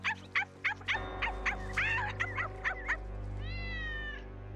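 A cartoon cat meows repeatedly in a Tintin adventure, a quick run of short meows followed by a drawn-out wail, all heard over a steady low background hum.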